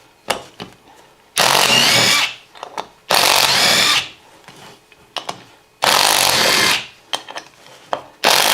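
A power drill backs screws out of a wood lathe faceplate in three separate bursts of loud whirring, each lasting about a second, with quiet handling clicks in the gaps and no talking.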